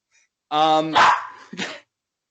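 An angry dog in an animated cartoon barks loudly and close, a drawn-out voiced bark breaking into a rough burst, then one shorter bark after a brief pause.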